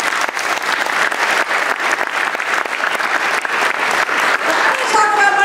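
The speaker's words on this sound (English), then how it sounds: "So I just actually want to give them one more round of applause." Sustained applause from a political event audience in Binghamton for panel members, steady dense clapping from a full room with no voices.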